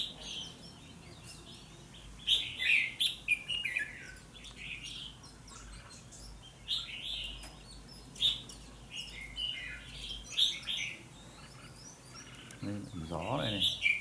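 A red-whiskered bulbul kept in a cage gives short bright chirps and song phrases in bursts, fairly faint against low background noise, with a deeper sound near the end.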